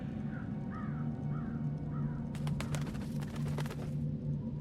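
In a video game, a crow caws in short repeated calls over a steady low ambient hum, followed by a rapid flutter of clicks or wingbeats; no one speaks.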